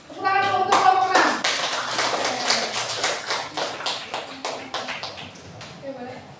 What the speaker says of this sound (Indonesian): Tepuk tangan dulu untuk kelompok 6.